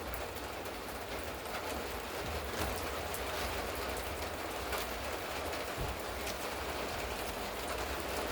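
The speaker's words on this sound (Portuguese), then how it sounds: "Ô, que chuvinha boa, hein?" Steady light rain falling outdoors, a constant even hiss with no talking, moderately faint and unbroken throughout.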